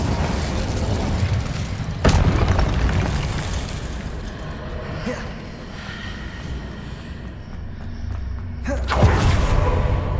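The Incendio fire spell in Hogwarts Legacy lands in two heavy booming blasts, one early and one near the end, with a low rumbling roar between them.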